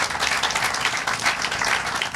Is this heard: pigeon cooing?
no